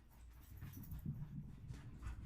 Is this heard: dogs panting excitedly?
yes